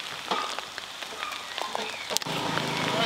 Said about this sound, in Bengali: কাজু কিশমিশ ভাজা